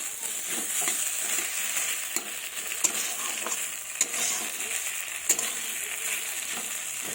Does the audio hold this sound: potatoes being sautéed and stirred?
yes